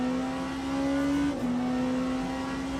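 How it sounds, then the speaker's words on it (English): A Porsche V6 race car engine in a racing video game, on track at Sebring heading toward the turn 7 hairpin, drones loud and steady in a sustained tone with a brief pitch dip midway, no voices. "You can hear the great sounding V6 engine of the Porsche towards the turn 7 hairpin"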